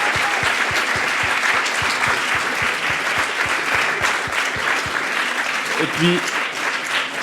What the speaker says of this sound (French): Je vous invite à applaudir de nouveau ces 7 finalistes